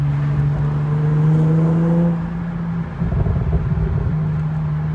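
Modified Nissan 350Z with a 3.5-litre V6 engine, a steady close droning hum that drops and roughens midway before settling back to a constant engine tone.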